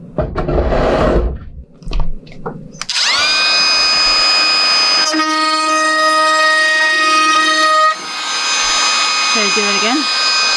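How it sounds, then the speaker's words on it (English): A power sander running against a hardwood bench made from big-box-store lumber, a loud steady whine that starts abruptly, shifts pitch partway through and drops briefly near the end, close and without talk. "I just have to sand it down."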